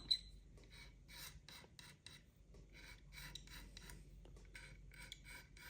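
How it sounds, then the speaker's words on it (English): A blade scrapes excess lacquer from the neck of a vintage 1969 Fender Telecaster in short, repeated rasping strokes, close and fairly quiet, with brief pauses between passes. "I'm actually going to try and scrape some of the excess off using a blade beforehand."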